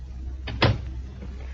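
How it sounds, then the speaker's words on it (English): A door is shut in a radio drama scene, giving a single short thud after a brief scrape, close and moderately loud against a quiet room. "Shut the door, Jack."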